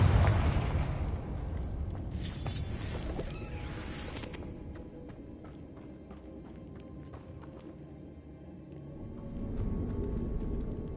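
A Confringo fire spell explodes in Hogwarts Legacy with a loud, sharp burst, then the blast fades into a long rumbling tail dotted with scattered crackles and pops.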